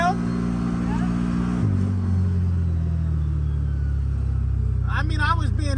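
CFMOTO UTV engine pulling a heavy load in low gear, a loud steady drone that drops in pitch and settles into a deep labouring rumble, with people talking over it.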